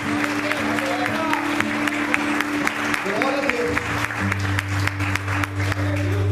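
A church congregation claps in a steady scattered rhythm beneath a preacher's voice and a low sustained musical hum, with someone speaking over it.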